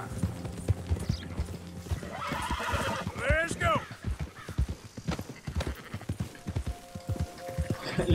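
A horse in the Red Dead Redemption II video game gives a loud whinny midway, over a steady clip-clop of hooves, with voices talking throughout.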